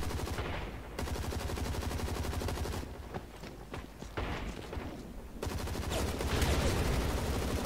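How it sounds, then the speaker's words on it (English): Sustained automatic fire from an M27 rifle in the video game Hazard Ops, with long rapid bursts of gunshots close up, a short break with scattered shots, then heavy continuous firing again. "Lara Croft is using the M27 as well"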